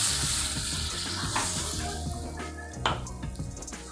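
Water poured into a cooked spice paste frying in oil for a pomfret fish curry, a loud close hiss and bubbling sizzle that slowly settles, with a few clinks.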